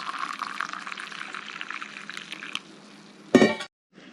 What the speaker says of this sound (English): we're going to pour